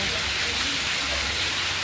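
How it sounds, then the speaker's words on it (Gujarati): Heavy rain pours nonstop, with runoff water flowing into a home's yard and up to the main door, a dense close hiss that stays steady throughout. "વરસાદ પણ ફૂલ ચાલુ છે"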